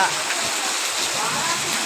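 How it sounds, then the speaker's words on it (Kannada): Heavy rain pours in a steady, dense hiss that fills the background without a break, close and continuous. "ಜೋರಾಗಿ ಬಂತು ಮಳೆ"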